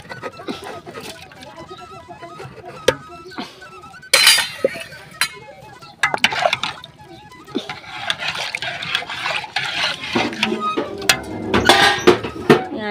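Dry rice pours and clatters into a cooking pot, a scattered run of clinks and rattles that swells into a dense rustling patter partway through.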